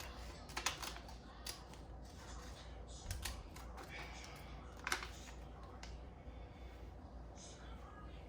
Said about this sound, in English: So I'm just gonna cut more of this plastic off.